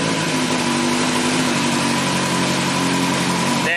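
A Kawasaki ZX-10R motorcycle engine idles steadily, a constant close, loud hum that holds without any gaps for a few seconds.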